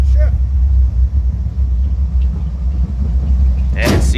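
A 1950 Ford F1 pickup with a 289 engine and three-speed drives along, its low steady engine rumble continuous and fairly loud, with a brief louder burst near the end.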